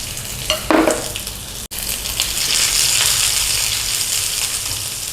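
Chopped garlic hits hot oil in a pan for Indian chicken pasta. A sharp burst and a quick stir come first, then a dense, loud sizzle that settles into a steady hiss.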